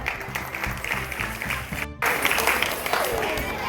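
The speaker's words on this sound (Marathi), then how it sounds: "त्यांच्यासाठी देखील जोरदार टाळ्या." An audience applauds at a Vita municipal council stage event. A speaker's amplified voice comes first, then a broad burst of clapping rises and continues loudly to the end.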